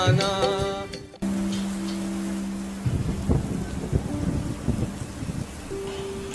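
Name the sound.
thunderstorm with rain, drama sound effect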